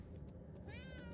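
Cat meowing in the video game Murdered: Soul Suspect, a short rising meow with clear harmonics near the end, heard over a steady low background rumble.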